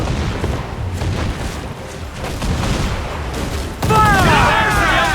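Ship cannon fire in the naval battles of the game Assassin's Creed 4 Black Flag, a dense rumbling barrage of booms with crew shouting over it, loud and continuous, ending in a bright ringing burst.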